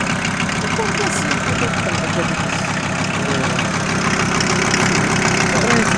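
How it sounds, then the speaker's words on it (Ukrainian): A rebuilt 2.4-litre diesel engine in a Volkswagen T4 Caravelle van idling steadily with a low, even rumble and slight knocking clatter, heard up close throughout. "Мотор після капремонта. Працює дійсно чистенько."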